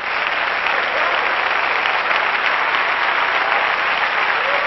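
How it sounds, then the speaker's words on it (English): Church congregation clapping their hands, a dense, continuous wash of many claps sustained evenly at steady loudness throughout, with no voices standing out. "Stand up and clap your hands right now."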